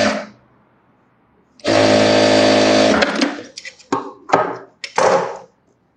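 A sewing machine stitches a sleeveless blouse in a tailoring room, running in one steady, close burst of about a second before stopping, followed by a few short clattering handling knocks.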